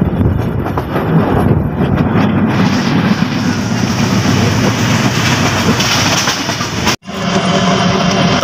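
A train running on rails, heard from on board with a loud, continuous rumble and rattle of the carriages that drops out in a brief gap near the end before resuming.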